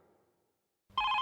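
An office telephone starts ringing abruptly after a near-silent pause, a loud bright electronic ring that cuts in and holds steady to the end.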